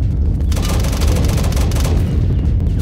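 Rapid bursts of gunfire in Roblox, a dense, loud barrage of overlapping shots and booms running steadily through the whole stretch with no pauses.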